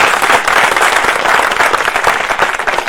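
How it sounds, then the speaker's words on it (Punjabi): A church congregation claps together in worship, a dense, steady wash of many hands that stays loud and unbroken for the whole stretch, with no voices standing out. "ਤਾੜੀ ਮਾਰਾਂਗੇ ਯਿਸੂ ਮਸੀਹ ਦੇ ਨਾਮ।"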